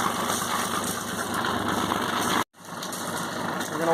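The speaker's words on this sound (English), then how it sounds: "We're going to let the motor run for probably 5 or 10 minutes." A Yanmar 30hp marine diesel engine idles after a cold start, a steady close mechanical clatter with a brief dropout before the even running resumes.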